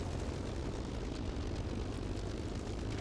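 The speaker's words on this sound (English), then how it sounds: "You can just hear the throttle going down" In a flight simulator combat game, a propeller aircraft's engine is throttled down, heard as a steady, dense droning roar with no clear breaks and no speech.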